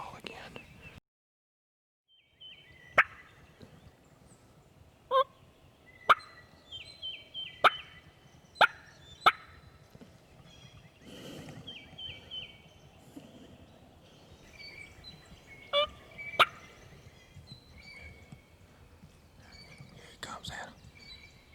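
Wild turkey gobbling in the woods during spring hunting season in Georgia, a series of sharp, loud calls repeated irregularly at moderate distance, with quiet hunters whispering in between.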